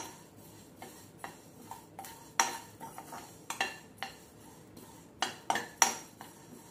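Flaxseeds lightly roasting in a pan, with a spoon or spatula scraping and clinking against the metal in irregular bursts, close and fairly quiet with brief sharp taps between softer stirring.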